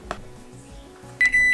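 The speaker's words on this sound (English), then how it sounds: "So it says microwave for 4 minutes." A microwave oven heating a bowl of seaweed soup hums low and steady, with a faint click early on and a loud electronic beep near the end signaling the cycle finishing.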